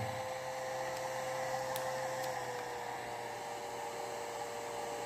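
A hair dryer runs steadily at its highest drying setting, 1200 W, powered through a pure sine wave inverter, giving a constant broadband whoosh with a faint motor hum underneath, close and unbroken throughout.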